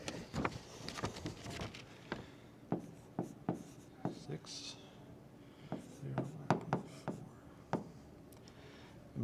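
A pencil scratches on paper while star declinations are written in, with irregular short strokes and taps close to the mic and a voice speaking faintly at times.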